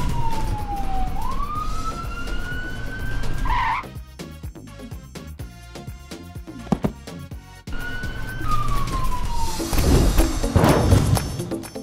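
An ambulance siren wails loud and close in a wavering rising and falling tone, breaks off briefly into rough vehicle noise, then starts its wail again over a rushing, skidding roar.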